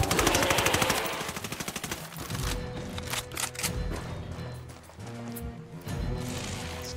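Video game gunfire aimed at the Predator: a loud, rapid burst of automatic shots up front, followed by heavier scattered blasts and impacts over a rumbling game soundtrack.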